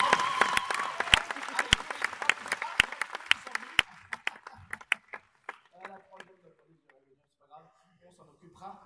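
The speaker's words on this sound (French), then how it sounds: "On les applaudit bien fort." Outdoor street-show audience claps for volunteers: a loud burst of applause with sharp individual claps that thins into scattered claps, then mostly fades as a voice speaks.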